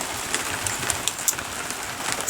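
Steady rain patters on a hard surface outdoors near a barn, a dense, even hiss with scattered sharper drops and no voices.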